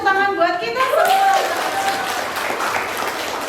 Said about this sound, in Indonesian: beri tepuk tangan buat kita semua